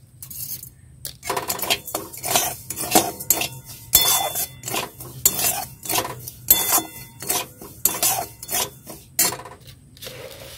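A spoon scrapes and clinks against a metal bowl while coarse-grained sugar is stirred into a mixture, giving repeated rhythmic rubbing strokes at close range with no talk.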